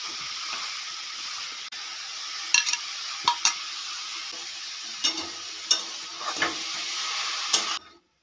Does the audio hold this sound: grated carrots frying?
yes